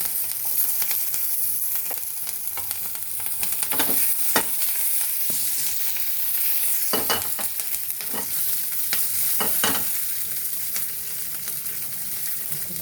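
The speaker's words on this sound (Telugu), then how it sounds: "జీలకర్ర, ఎండుమిరపకాయలు అండ్ పచ్చిమిర్చి వేయించి తీసుకోవాలి." Cumin, dry red chillies and green chillies frying in about half a spoon of oil for tomato peanut chutney: a dense crackling sizzle with scattered pops and stirring scrapes, close and unbroken, with nobody talking.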